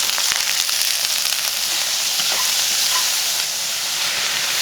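Shrimps frying in olive oil with sliced garlic and dried chilies, a loud, steady, hissing sizzle that fills the whole stretch without pause and without any voices.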